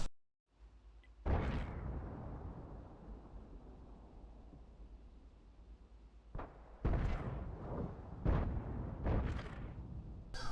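Tank cannon fire in a World of Tanks battle, several heavy booming shots from teammates at irregular intervals, some close and loud, with rumbling echoes between them.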